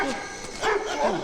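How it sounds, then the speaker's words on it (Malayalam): A Doberman lets out a couple of short, close barks in a Malayalam film scene, with whimpering or vocal sounds between them. "ഇത് ഡോബർമാനാകുന്നു."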